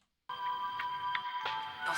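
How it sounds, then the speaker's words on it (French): A corded landline telephone rings after a short silence, its electronic tone repeating in a steady pattern, close and clear, with faint background noise. "c'est un téléphone fixe avec un fil"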